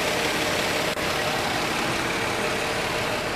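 A 2005 Nissan Xterra with a 4.0L engine and low oil pressure idles in a steady, even drone heard close, with no talk over it.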